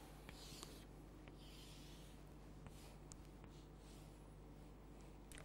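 Chalk or marker scratches and taps on a classroom board as a math teacher draws a geometry figure, faint scattered strokes over a steady hum of room noise.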